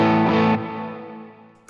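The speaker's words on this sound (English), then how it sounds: "The Tube Screamer, it's like pretty crazy at this point." An electric guitar chord is run through a Tube Screamer overdrive pedal with a chorus-like effect, ringing out loud and gritty before dropping and decaying slowly, with no voices.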